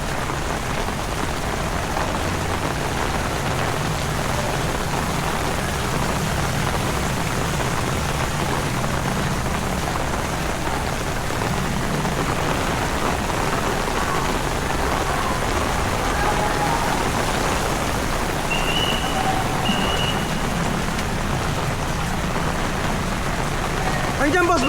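Heavy rain pours down steadily during a Metro Manila flood, hissing dense and unbroken throughout with floodwater around; a faint tone surfaces briefly late on, and no clear talking rises above the downpour.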